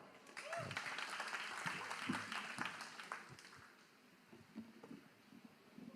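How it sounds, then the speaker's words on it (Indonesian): A small group claps at a public gathering in Surabaya, uneven applause heard at moderate distance with some wind-like noise, tapering off toward the end. "Tepuk tangan dong."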